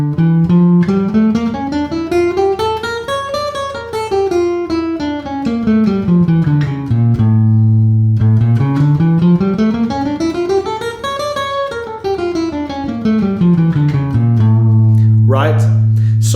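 Jazz guitar runs a D harmonic minor scale up and down twice, clean single notes played evenly and close, each run ending on a sustained low note.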